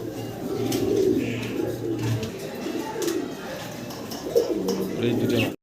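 A pair of Mili pigeons at a pigeon sale coo softly in low, throaty rolling calls, repeated throughout, with some background noise and occasional movement nearby.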